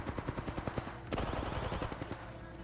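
Rapid automatic gunfire in Apex Legends, a steady stream of close, crisp shots that thickens into denser overlapping bursts partway through, with no talking.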